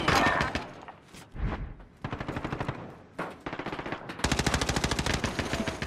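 Rapid automatic gunfire in a Modern Warfare multiplayer match, several loud close bursts of machine-gun fire separated by short pauses, with the final burst longest and most sustained.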